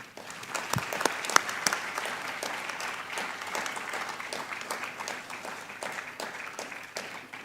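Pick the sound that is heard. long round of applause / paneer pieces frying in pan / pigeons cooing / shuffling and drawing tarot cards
long round of applause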